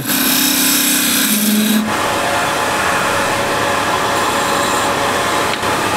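A skew chisel cuts a wooden flange on a lathe, giving a steady close rasping scrape with a humming tone in the opening two seconds, then continuing as an even gritty shaving sound with no talking.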